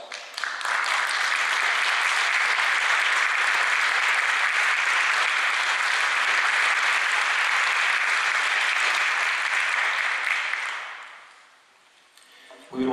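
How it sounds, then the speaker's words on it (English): A warm round of applause from an audience at an honor ceremony, dense, even clapping that holds steady for about ten seconds and then fades out quickly. "recognize them with a warm round of applause"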